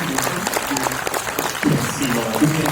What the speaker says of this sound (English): y'all can stand up and a round of applause